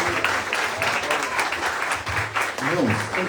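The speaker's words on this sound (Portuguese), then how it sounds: "Alguém pode aplaudir o Senhor Jesus?" A church congregation applauds during a thanksgiving service, steady clapping from many hands filling the room while a voice speaks over it.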